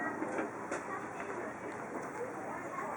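A toddler's toy train set runs with a steady, faint clickety rattle under broadband room noise, with brief clacks and a child's excited sounds nearby.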